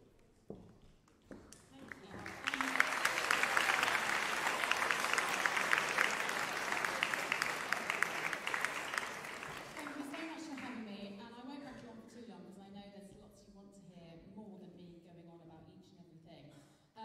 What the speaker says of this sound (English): Let's celebrate the success of those winners with generous and warm applause.